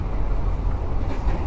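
Steady rumbling interior noise fills an economy car, number 5, of the Matarmaja passenger train while it runs, a dense continuous low roar with no talk.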